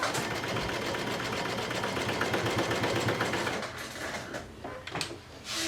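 A sewing machine stitches a swim top in a loud, continuous close-up whir that slows and breaks into a few stops near the end.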